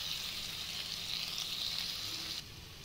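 Potatoes and tomatoes frying in a pan for a chickpea, drumstick-leaf and potato curry, a steady close sizzle that holds even and loud, then drops abruptly quieter near the end.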